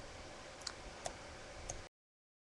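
A piezoelectric buzzer clocked at 1 Hz gives faint, sharp ticks about once per second over a steady background hiss, then the sound cuts off.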